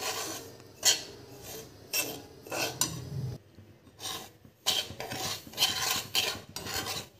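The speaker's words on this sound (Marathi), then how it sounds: "आता त्यामध्ये रवा टाकूया आणि मीडियम गॅसवर छान खरपूस होईपर्यंत भाजायचं आहे." Semolina dry-roasting in a kadhai over a medium gas flame for rava laddoo, stirred with repeated rasping, scraping strokes against the pan, close and steady with brief pauses.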